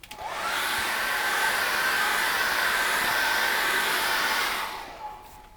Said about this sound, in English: So I'm going to dry that with a hairdryer now